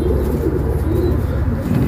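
A pigeon coos in short soft repeated phrases, close and steady over a low background hum.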